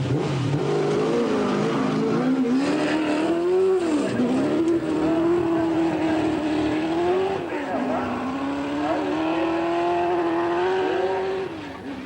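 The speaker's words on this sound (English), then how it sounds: "A little bit of trouble with wheel spin." A rally car at the 1985 Ashley Forest Rallysprint accelerates hard on dirt with wheel spin, its engine note rising and falling continuously through gear changes while a commentator talks over it.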